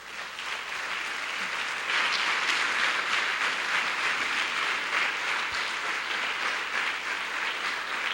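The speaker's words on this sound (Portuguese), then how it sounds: "Você pode dar uma salva de palmas ao Senhor?" A church congregation claps for the Lord during a sermon, broad sustained applause filling the room at an even level for the whole stretch, with no voices standing out.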